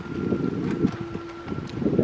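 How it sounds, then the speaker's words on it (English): Wind blows outdoors, a steady low rumble of buffeting against the microphone that continues throughout with no talk. "A little bit windier than I'd like, maybe."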